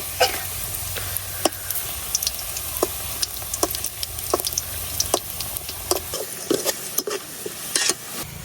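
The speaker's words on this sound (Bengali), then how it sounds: "পেঁয়াজ আর রসুনটা যে ভাজা হয়ে গেছে এখন আমি সাইডে দিয়া তো একটা শুকনো মরিচ দিয়ে দিতেছি" Dried chili dropped into onion and garlic frying in oil sizzles steadily, with regular clicks and scrapes of a spoon stirring the pan close by.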